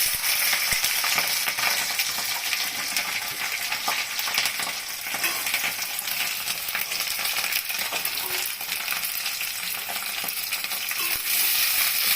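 Capsicum frying in a pan for chilli cauliflower, a dense continuous sizzle with scattered stirring scrapes and light clinks of a spoon against the pan.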